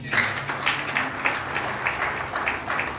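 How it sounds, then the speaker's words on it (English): Rhythmic group clapping in a steady beat, roughly two claps per second, from a church congregation in a reverberant space. "Come on, clap your hands."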